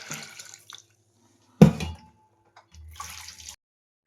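Water is splashed into a cooking pot of dal with tomatoes, green chillies, garlic and turmeric, heard as a sharp close pour burst followed by a softer, longer gush after a pause.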